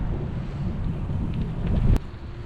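Steady strong wind rumbles and buffets at the Grand Canyon, a low continuous roar across the microphone with a brief sharp knock near the end.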